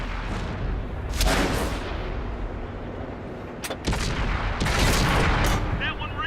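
Tank cannon fire in a military video game, several heavy booming shots spread across the stretch, each with a sharp crack and rolling decay, set against continuous battlefield noise.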